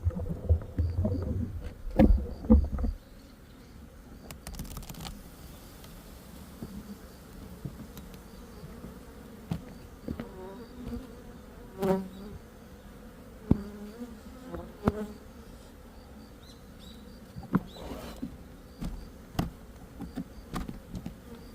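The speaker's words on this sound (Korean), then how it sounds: "약간의 벌이 있죠." Bees buzzing around a single-box beehive during a hive inspection, a steady low hum with intermittent close passes, scattered handling knocks and rustles, a louder burst of clatter near the start.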